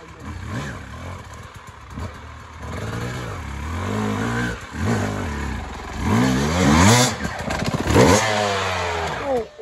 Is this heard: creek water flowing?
no